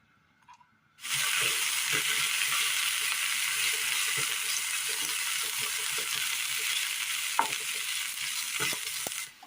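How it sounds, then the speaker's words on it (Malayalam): Grated coconut roasts in a little oil in a pan on the stove, giving a loud, steady sizzling hiss that starts abruptly and continues unbroken, with faint stirring scrapes and clicks underneath. "തേങ്ങയൊന്ന് വറുത്തെടുത്ത് വരാം അടുപ്പത്തൊരു പാൻ വെച്ച് കൊടുത്ത് അല്പം എണ്ണ ഒഴിച്ചു കൊടുക്കാം"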